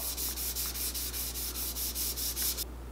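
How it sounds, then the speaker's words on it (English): A plastic Silverado tow mirror cover sanded by hand with sandpaper: steady back-and-forth rasping strokes in a quick regular rhythm, close and clear, stopping abruptly near the end, no speech. "Just let the paper do the work, because if you don't, you're gonna get finger marks in it. So just easily sand it."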